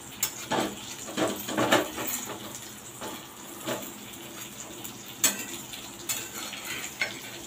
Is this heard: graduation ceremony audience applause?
no